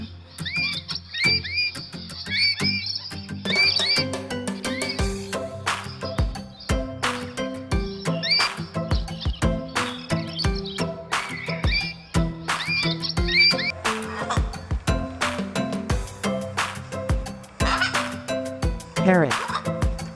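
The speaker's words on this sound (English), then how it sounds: "Parrots are astonishingly imitative of many sounds including human speech" Parrots give a busy stream of shrill, squawking calls and whistles, repeated in quick rhythmic bursts over about twenty seconds, loud and close with no pauses.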